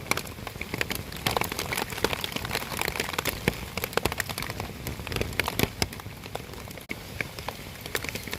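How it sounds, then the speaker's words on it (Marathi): Heavy monsoon rain pours down steadily near a river, a dense continuous patter of drops hitting surfaces close by, with no voices. "पाऊस तर उघडायचं नावच नाही घेत मंगा धरून पडतोय पाऊस बघा"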